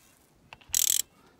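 A ratchet set to loosen on the brake caliper cap of an R56 Mini Cooper S gives a few quick, faint clicking turns, then a short burst of close ratcheting and one final click, with no voices.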